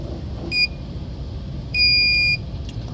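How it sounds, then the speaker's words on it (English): Two clean electronic beeps from a Grav M20 engraving machine, a short one followed by a longer sustained tone, sounding over a low background hum. "run, wait for the machine to beep."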